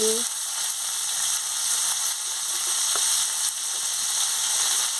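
Bitter gourd frying in a pan with turmeric and salt, a steady loud close sizzle throughout with faint stirring clicks and no talk.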